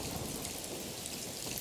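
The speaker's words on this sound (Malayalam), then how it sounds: "പുറത്ത് നല്ല മഴയാണ്" Heavy rain pours as a horror-story sound effect, a soft, constant downpour hiss heard alone without voices or distinct thunder.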